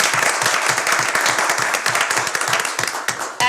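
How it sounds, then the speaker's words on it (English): An audience at a public school board meeting gives a round of applause, close, steady clapping with distinct hand strikes that fills the whole stretch. "if we could just give them a round of applause"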